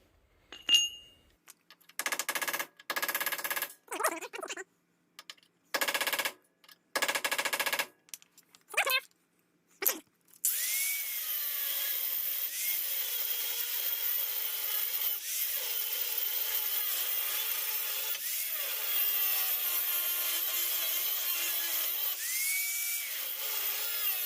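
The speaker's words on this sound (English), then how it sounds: "We'll try a little chiseling here." Chiseling a steel bump stop bracket off a Chevy S10 frame: about ten seconds of close, loud, rapid hammering bursts separated by short pauses, then a steady, continuous metallic noise.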